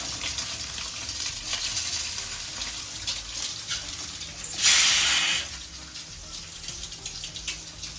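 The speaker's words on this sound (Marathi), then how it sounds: "हे थोडंसं तेलामध्ये याला फ्राय करते" Food fries in oil in a pan with a continuous close sizzle and crackle, swelling into a louder hissing surge midway before settling back.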